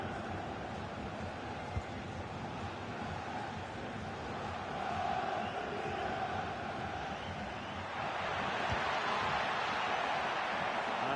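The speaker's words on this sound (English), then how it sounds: "The crowd are certainly playing their part." A stadium crowd in the FC24 football video game keeps up a continuous distant roar and murmur, swelling slightly louder toward the end.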